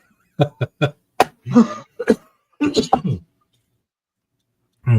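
A fit of short, sharp coughs in quick succession, close up, followed by a few throatier coughs, then silence.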